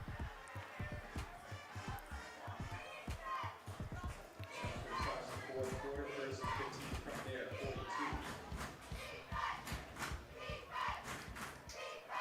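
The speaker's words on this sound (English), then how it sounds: "very, very big crowd, both sides tonight" A large crowd at a high school football game at night, a dense roar of cheering and chatter from both sides of the stands with thumps and shouts mixed in, loud and continuous throughout.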